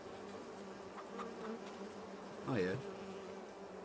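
Beehives in Farming Simulator 22 give off a steady, soft insect buzz throughout, with a brief spoken remark near the end.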